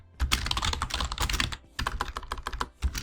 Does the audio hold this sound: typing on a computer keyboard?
yes